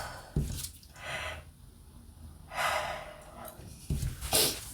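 A close, breathy yawn with drawn-out airy inhales and exhales, broken by a few short, sharp breaths.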